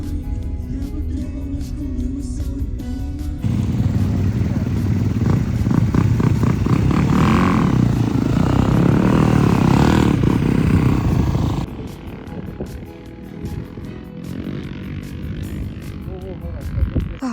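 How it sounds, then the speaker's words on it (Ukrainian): A small engine drones close by, swelling louder as it passes and then dropping away, with some background chatter around it. "Сюда мини-байк, мини-байк."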